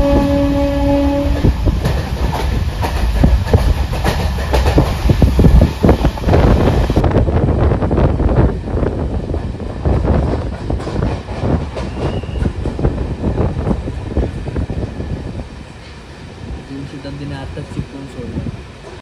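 A Ganpati special MEMU train from Diva to Chiplun in the Konkan runs with a loud, continuous rumble and rattle, buffeted by heavy wind noise throughout.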